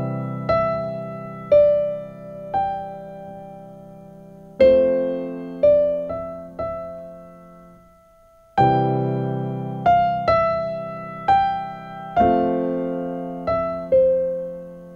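Simple beginner piano melody of single notes over sustained low chords, phrases separated by a brief near-silent pause, each note struck clearly and decaying, played alone with no talking.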